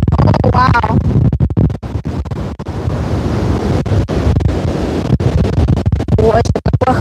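Gusty wind buffets a microphone outdoors by the sea, a loud, continuous rumbling roar with surf-like washes, while a person talks intermittently near the start and end.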